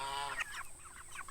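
Chickens cluck in a short burst of overlapping, fairly close calls over a steady background hum, with no talk.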